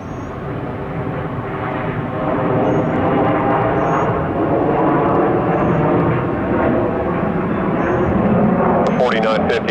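An airliner at Atlanta airport taxis and takes off, its engine roar building into a loud, continuous rush, with faint radio voices underneath.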